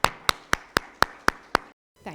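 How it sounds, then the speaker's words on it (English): Seven sharp, evenly spaced claps ring out close and clear for an audience applauding a panel of speakers, followed by a brief pause and then a voice starting to talk. "let's give a big round of applause to all of them"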